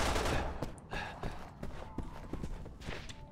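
Gunfire hitting the player in the video game Resident Evil 6, a burst of sharp rapid shots and impacts at moderate volume over a busy game soundscape.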